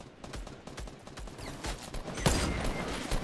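Rapid bursts of gunfire in the Fortnite battle royale video game crackle in clustered volleys, growing louder and denser toward the end, with a sharp close shot near the middle.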